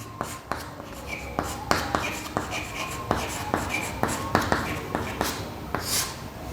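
A hand writes out a math statement in a class on direction ratios, with short scratchy strokes and taps repeating at a brisk, uneven rhythm, close up and quiet, with faint talk now and then.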